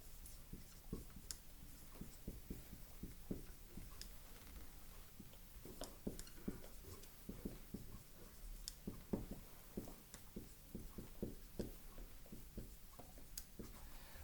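Pen or marker strokes scratch out a chemical dissociation equation, with soft, irregular taps and scrapes in short bursts and no talking.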